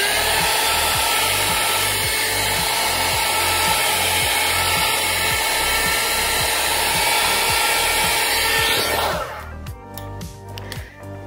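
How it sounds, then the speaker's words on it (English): A heat gun heating a liquid-crystal color-changing mug blows with a loud, steady roar and pulsing low hum for about nine seconds, then cuts off, leaving faint clicks and handling noise. "And then I'll show you what it looks like with the heat gun."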